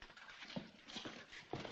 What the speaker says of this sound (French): Alors, ces chevaux? Ils viennent.